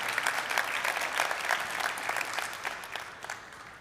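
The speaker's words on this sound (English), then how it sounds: "Please go ahead and clap." An audience at a Rotary presidential address breaks into sustained applause, many hands clapping at once in a dense patter that thins slightly toward the end.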